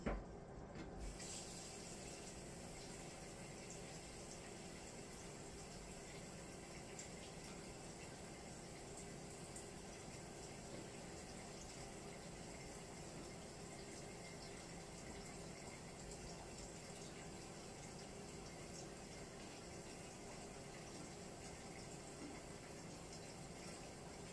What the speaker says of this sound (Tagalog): gagawin ko po, talagay ko po tubig